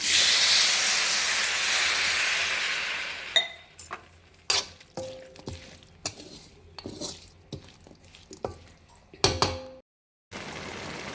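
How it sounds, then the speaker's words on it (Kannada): Avarekalu bean curry in a pan, a steady hiss first, then a metal spoon clinking and scraping against the pan in irregular knocks, with a brief silence near the end. "ನೋಡಿ ಇವಾಗ ಚೆನ್ನಾಗಿ ಕುದೀತಾ ಇದೆ ಅಲ್ವಾ"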